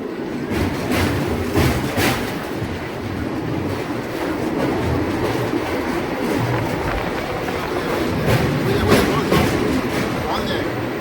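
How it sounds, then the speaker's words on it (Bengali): Santragachi–Digha first passenger train running along the line, a steady loud rumble of wheels and carriages with rhythmic rail clatter throughout, recorded from aboard near the Kolaghat rail bridge; a voice may be faintly present. "ছুটে চলেছে Santragachi Digha first passenger train."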